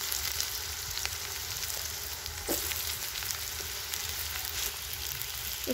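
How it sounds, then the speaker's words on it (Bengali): Cut pieces of tender kohlrabi frying in hot oil in a pan, a soft continuous sizzle with a few faint stirring scrapes, fairly quiet and without speech. "একদম তেলের উপরেই সুন্দর করে ভেজে নেব"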